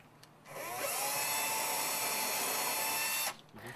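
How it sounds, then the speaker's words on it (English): A power drill boring pilot holes through a template into a cabinet face frame, a single steady high whir lasting about three seconds, close and loud, starting and stopping cleanly. "pre-drill our pilot holes"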